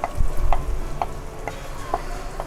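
Masala with peas for beach sundal bubbles and sizzles in a pan, with a regular series of soft ticking pops about every half second over a low simmering hiss.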